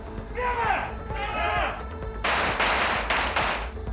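Sharp gunshots ring out in a rapid cluster of several cracks, loud and close, at a bodyguard firearms training session, following a stretch of background voices and noise.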